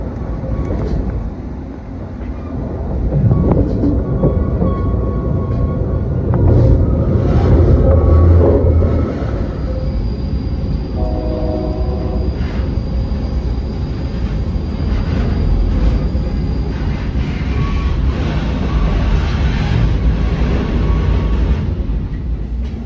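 Metra-owned tracks carry a passenger train, heard from inside as a loud, continuous rumble and roar of the wheels and car, with a steady hum and some rattling, and no voices.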